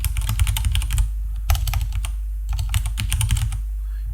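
Code being typed on a computer keyboard: rapid, steady clacking keystrokes in close bursts with a brief pause near the middle, no voices.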